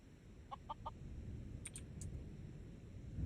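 A chicken in the video game Skyrim gives a few short, quiet clucks over a low ambient game rumble, followed by faint high chirps.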